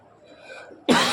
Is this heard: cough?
yes